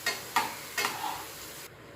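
Mushrooms frying in a pan give a soft sizzle, broken by three quick scraping stirs of a utensil against the pan.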